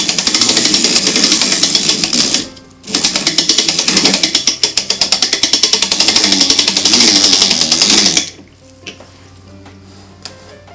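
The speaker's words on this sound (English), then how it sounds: "I've tightened down the inner coil of the spring so that it grips now. So we'll wind up the spring." A clock mainspring being wound, loud rapid ratcheting clicks of the pawl in two bursts with a short pause between, then stopping into near silence with a few faint clicks.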